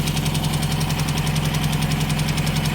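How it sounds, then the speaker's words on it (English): Ford Escort MK3 GLE engine idling up close, a steady low hum with a fast, even ticking running through it the whole time, no voices. "it's running better, but I'm not happy with that ticking noise"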